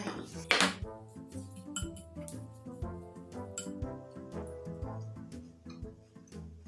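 Garlic carrot salad tossed in a bowl, with repeated clinking and scraping of a utensil against the dish in an uneven rhythm, close and moderately loud, with a sharp knock near the start.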